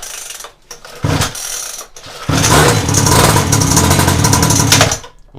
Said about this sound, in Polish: Motorek odpalił bardzo ładnie